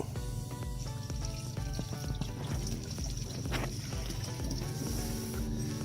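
Water pours steadily into a bottle for topping up, a continuous trickling fill beside a portable pressure washer, with a faint hum underneath throughout.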